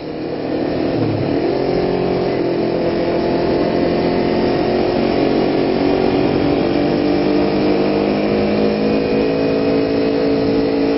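A 600-class sport bike motorcycle engine droning loudly and steadily while riding on Mulholland Drive, a constant close hum with one small pitch dip early on, then a slowly rising tone.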